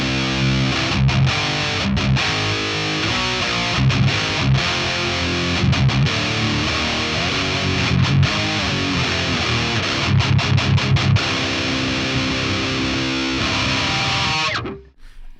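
A heavily distorted electric guitar through a Boss Katana-100 MK2 combo amp plays chunky, rhythmic chords with short choppy mutes, loud and continuous, cutting off abruptly at the end.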